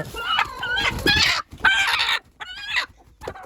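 A native country hen being held clucks loudly and agitatedly up close in repeated bursts, with brief pauses between each run of calls.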